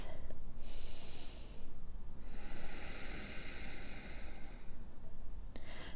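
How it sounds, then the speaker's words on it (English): Slow, textured ujjayi breaths during a yoga practice, two long audible hissing exhalations close to the microphone, each ending in a brief pause, with no talking over them. "ujjayi breath"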